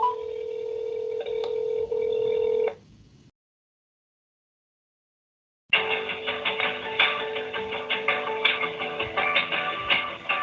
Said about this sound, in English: I'm actually going to make a phone call from my phone here